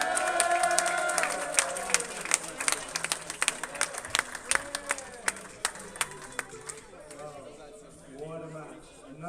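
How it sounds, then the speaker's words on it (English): Crowd at a squash open final cheering and clapping for the women's champion, with sharp individual claps scattered across a busy murmur that slowly thins out toward the end. "a big, big cheer and a big round of applause for our ladies' champion, Sivasangari Subramaniam."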